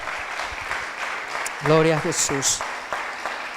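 A church congregation claps for the Lord during a Spanish-language sermon, a steady wash of applause under a shouted praise and brief sung or voiced tones.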